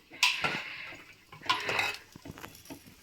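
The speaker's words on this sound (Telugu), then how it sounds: "ఇప్పుడు మనం గరిటతో దికావ కలుపుతాం" A ladle stirring raw mango curry in a metal pot, with two clear bursts of clinking and scraping against the pot, then lighter taps and knocks, close by and fairly quiet.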